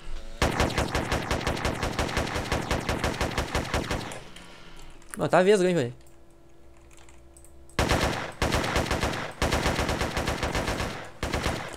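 Automatic gunfire in the video game Rust, long rapid bursts of loud sharp shots close up, broken by a pause where someone speaks, then more sustained bursts.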